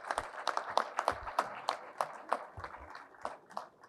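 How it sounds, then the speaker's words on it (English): Audience applause at an engineering award ceremony, with bursts of clapping rising and falling across the whole stretch, moderately distant and steady with scattered sharper claps. "have a huge round of applause."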